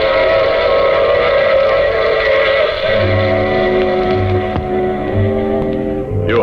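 A train rumbles steadily along in a 1952 old-time radio sound effect, with a rhythmic low chugging that takes over halfway through and a brief whistle-like tone near the end.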